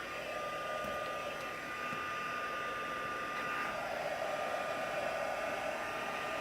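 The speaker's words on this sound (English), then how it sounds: "This is synthetic ribbon, so I'm just going to take my heat tool." A craft heat tool blows hot air onto synthetic ribbon to curl it, producing a constant soft whirring blower hum with a faint high whine, steady and close the whole time.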